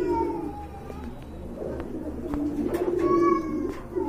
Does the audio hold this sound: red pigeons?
yes